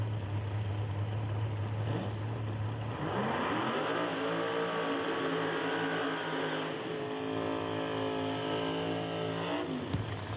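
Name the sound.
Chevrolet Nova race car doing a burnout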